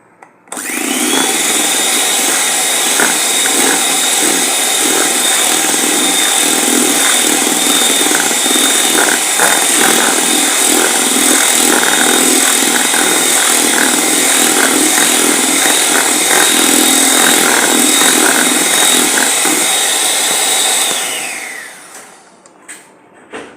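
An electric mixer beats whipped cream with sugar for a chocolate cake. Its motor whirs loudly and steadily for about twenty seconds, close by, then winds down and stops.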